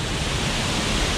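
A massive waterfall roars in a rainy forest, giving a steady, dense broadband rush that fills the whole short stretch at constant loudness with no pauses.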